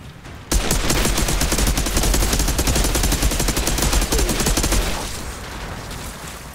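Rapid automatic gunfire from a weapon in the shooter game Outriders rattles continuously and loud for about four seconds, then stops, leaving quieter game ambience.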